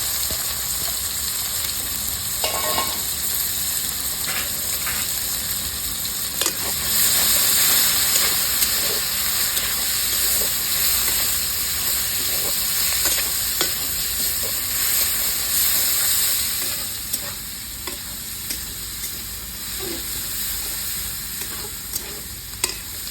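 Onions, dried red chillies and whole cumin seeds frying in hot oil, a steady loud sizzle and hiss with occasional stirring scrapes, continuous throughout with no voices.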